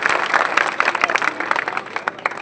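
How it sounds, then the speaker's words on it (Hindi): An audience at a Congress political campaign rally claps loudly and continuously, with a dense crowd applause that holds steady throughout. "एक बार जोरदार ताली बजाइए"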